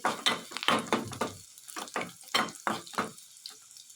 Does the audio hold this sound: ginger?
yes